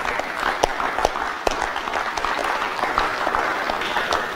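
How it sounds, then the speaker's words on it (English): An audience at a basketball defense clinic gives a round of applause, with dense, even clapping that holds steady at moderate loudness throughout and no speech over it. "give these guys a round of applause"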